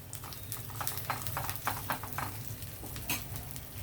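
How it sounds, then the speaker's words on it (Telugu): Garlic, cumin seeds and mustard seeds fry in hot oil, giving a steady, close sizzle with frequent small crackles and pops and light stirring scrapes throughout. "వెల్లుల్లి వేగిన తర్వాత మనం కొంచెం వేగితే చాలండి జీలకర్ర ఆవాలు వేసేయచ్చు"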